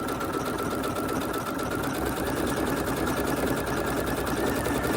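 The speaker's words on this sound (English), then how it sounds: "now I'm going to just sew along all the edges" Sewing machine stitching steadily along the edges of a dress bodice, a continuous close whirring hum running throughout with no pauses.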